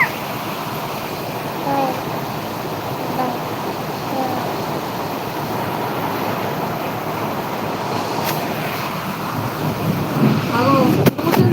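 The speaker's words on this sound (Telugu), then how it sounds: "అది అది ఉరుముతుంది దాని పేరు ఉరుము" Thunder rolls as a low, continuous rumble mixed with gusting wind noise on the microphone, swelling slightly toward the end, with a faint voice now and then.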